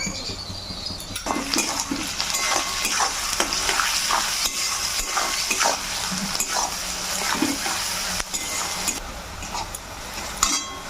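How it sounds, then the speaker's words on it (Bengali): Onions with a little sugar and salt frying in a pan for a Bengali mutton curry, a continuous close sizzle broken by frequent scraping and clattering stirs of the spatula. "পেঁয়াজটা লাল লাল করে ভাজা হয়ে গেছে"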